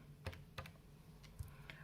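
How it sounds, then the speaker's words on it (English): Fingers tap keys on a calculator, a few faint, quick clicks spaced irregularly over under two seconds against a quiet background. "I just type it into my calculator"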